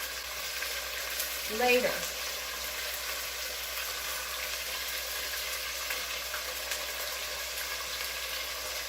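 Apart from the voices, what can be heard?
chicken pieces browning and sizzling in a pan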